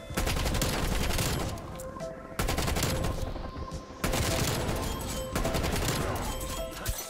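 Gunship circling overhead in a Call of Duty match pours down sustained heavy gunfire, long continuous bursts with brief breaks between volleys, loud and dense throughout.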